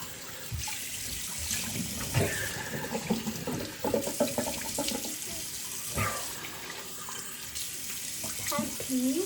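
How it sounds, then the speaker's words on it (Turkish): Cold tap water runs steadily into a sink as a face is washed during a traditional shave, with splashing and scooping sounds layered over the constant flow and a voice briefly heard. "Şimdi yüzümü bir yıkayayım soğuk suyla"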